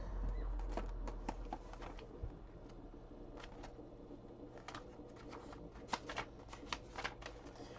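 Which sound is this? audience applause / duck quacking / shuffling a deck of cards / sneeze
shuffling a deck of cards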